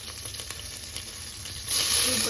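Onions with green chillies fry in oil in a pan, a steady close sizzle that swells louder near the end, with faint stirring and no talking.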